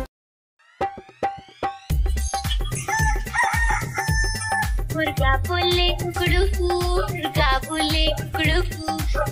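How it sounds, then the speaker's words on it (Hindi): A rooster crows within a Hindi children's nursery rhyme, a loud crow rising over a busy musical backing with percussion and melody, clear and up front after a brief quiet start. "मुर्गा बोले कुकड़ू"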